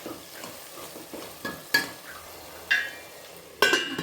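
Tomatoes sautéing in a pan for a Tamil vegetable rice, a quiet bubbling sizzle with several sharp clinks and scrapes of a spoon stirring against the pan, close and without talk.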